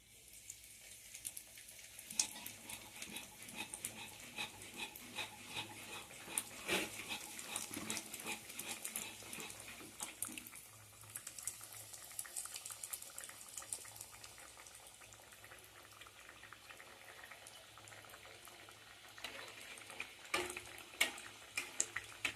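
Fish chops (macher chop) fry in hot oil with a soft, continuous crackle and sputter, fairly faint and close, with no talking.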